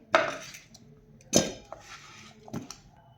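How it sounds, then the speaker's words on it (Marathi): Cut potato halves dropped into a steel pressure cooker in a home kitchen, giving three clattering knocks against the metal spaced about a second apart, close and fairly clear with no talking. "आलू कट करून झाले की आता आपल्याला कुकर मध्ये हे आलू घालून घ्यायचे आहेत"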